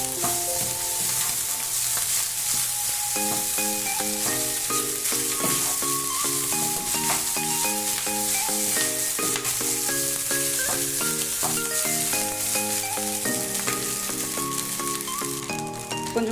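Egg fried rice made with ordinary rice sizzles and is stirred in a frying pan, a steady hiss running the whole time beneath loud melodic background music.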